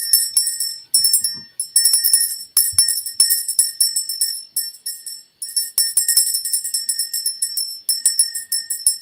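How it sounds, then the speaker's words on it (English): Small hand bell rung repeatedly in quick bursts, bright tinkling rings with short pauses between shakes, clear and close throughout with no talking. "Ring the bell for the children."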